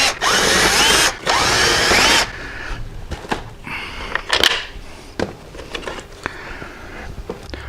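A power drill backs four screws out of a car speaker pod. Two loud bursts of motor whir are followed by quieter clicks, clatter and handling knocks at close range.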